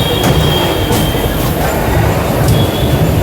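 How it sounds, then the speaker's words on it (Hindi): Steady loud rumble of a train on the Govindpuri to New Delhi run, a continuous broadband roar with rolling rail noise and a faint high whine, no clear beginning or end of a pass-by. "ये सामने से देखिए ट्रेन।"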